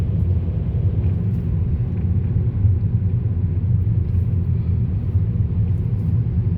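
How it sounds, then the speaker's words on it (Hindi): A car driving steadily at around 40 and picking up speed as traffic thins, its low engine and road rumble heard from inside the cabin, continuous and close with no talking. "रश थोड़ा कम हो रहा है, गाड़ी स्पीड पकड़ रही है।"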